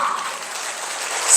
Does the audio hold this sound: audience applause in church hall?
yes